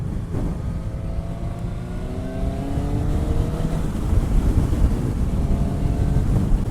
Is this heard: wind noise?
yes